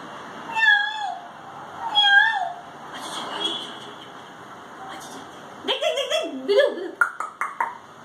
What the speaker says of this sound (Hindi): बिल्ली है बिल्ली